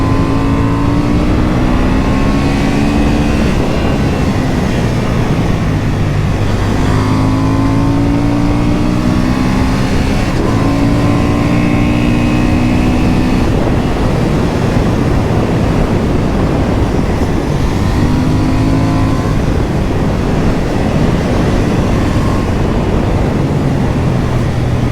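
A 2023 Honda Hornet 750 motorcycle rides hard at full throttle, its engine rising in pitch through repeated gear changes with steady wind rush, loud and continuous.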